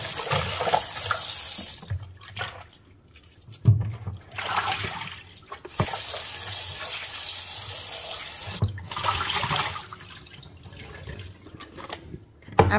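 Tap water runs and splashes in a sink in several bursts, stopping and starting as beef tripe is rinsed under the stream, close by.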